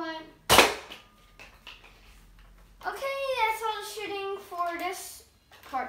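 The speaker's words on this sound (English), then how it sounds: "So let's get right into the shooting." A single sharp, loud shot from a Nerf Stampede ECS toy blaster firing a foam dart near the start, followed by a person talking over a quiet background.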